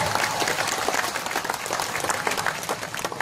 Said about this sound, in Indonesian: Tepuk tangan dulu buat perempuan.